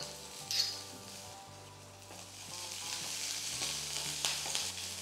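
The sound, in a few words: onion sautéing in a pan until soft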